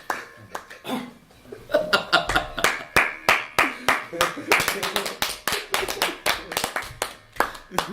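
Players in a game room clap in scattered, uneven bursts that grow denser midway, close and crisp, with some chuckling and talk mixed in.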